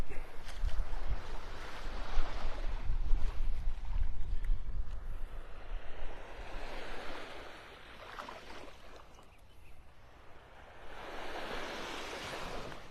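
Ocean surf on Vanderbilt Beach in North Naples, Florida, waves washing in and out in slow swelling rushes, steady and fairly near, with some wind buffeting the microphone.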